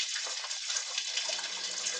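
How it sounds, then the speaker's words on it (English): Water gushes steadily from a hose flushing out a car's cooling circuit, a continuous close splashing rush with no pauses. "I'm putting water in there through the hose. It's coming out here"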